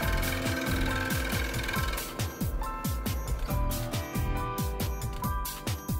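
A scroll saw cuts the outline of a lipless crankbait lure body from a wood blank, a fast, steady reciprocating chatter of evenly spaced strokes, close and continuous, with no talking.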